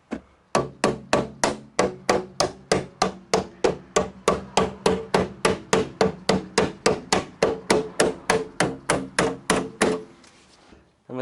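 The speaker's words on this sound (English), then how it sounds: "Now we're going to want to bash all this up as much as we can." A hammer pounds a steel car body panel on an Alfa Romeo Giulietta being converted to a two-door widebody, striking about thirty loud, evenly spaced blows in a steady rhythm before stopping, close up with no talk.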